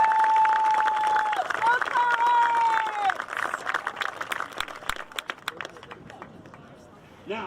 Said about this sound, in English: Give a big round of applause to Clarence.